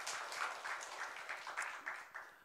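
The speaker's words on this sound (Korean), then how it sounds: "우리 하나님께 영광의 박수 올려드리겠습니다" A church congregation applauds during a Korean Sunday worship service, giving a steady, moderately loud burst of clapping that continues for a couple of seconds without voices.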